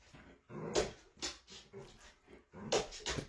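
An excited dog whimpers and whines in short bursts, close by, with rising nasal cries and breathy pauses between them.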